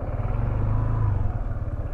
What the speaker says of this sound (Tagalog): Park natin yung motor.